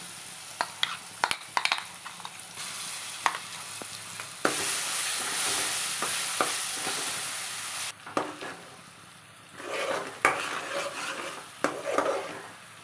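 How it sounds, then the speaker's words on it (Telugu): Thick raw mango paste sizzles and fries in a hot pan while a spoon scrapes and stirs in repeated strokes, close and fairly loud. "ఇలా ఒక నిమిషం పాటు బాగా ఫ్రై అయ్యాక"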